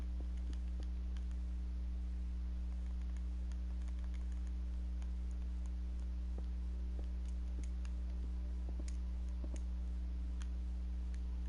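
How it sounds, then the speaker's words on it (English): Button clicks while building, scattered and irregular, sound over a steady low electrical hum, close and fairly loud, with no talking. "You guys can probably hear all of my button clicking"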